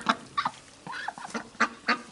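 Ducks quack in a backyard poultry yard in the late afternoon, giving several short, clear calls at fairly close range with brief gaps between them and no talking.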